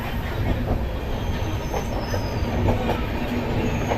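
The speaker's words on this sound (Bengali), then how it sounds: "জানি না ট্রেনের আওয়াজে শুনতে পাচ্ছ নাকি" The Sealdah–Puri Duronto Express runs at full speed, heard from inside a coach as a loud, constant rumble with rattling and faint wheel squeal and clatter, and no talking.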